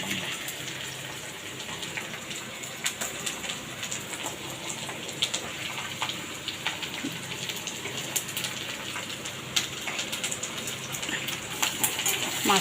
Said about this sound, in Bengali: মাছের মাথাগুলো মানে ঘি যেগুলো আছে সেগুলো সব একসাথে ভাজি করলাম